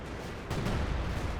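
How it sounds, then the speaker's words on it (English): British artillery shells land in Company of Heroes 2, a low booming impact rumbling in after a quieter moment, heavy and sustained. "Anyway, artillery's coming in"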